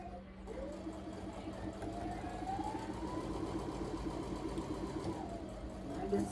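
A sewing machine stitches a quilt block with a steady, quick mechanical whir and a rhythmic needle chatter, running continuously at moderate distance and fairly quiet.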